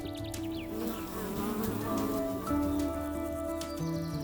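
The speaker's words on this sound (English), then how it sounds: "Bees. Small, fast, often unnoticed, but absolutely essential." Bees buzz close by in a busy, layered drone, several wings whining at shifting pitches as insects pass near, with faint bird chirps in the background and no talking.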